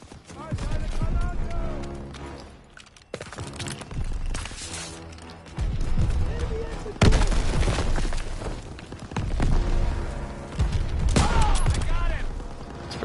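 Video game gunfire from other players cracks in repeated bursts and volleys, loud and close, mixed with footsteps and booms while someone talks over the shooting.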